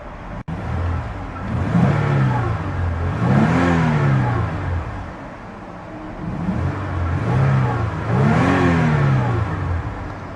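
A 2004 Toyota Sienna LE engine is revved up close, three throaty rises in pitch that sink back to idle between them, with no talking.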